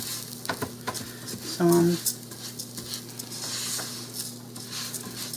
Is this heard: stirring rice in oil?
yes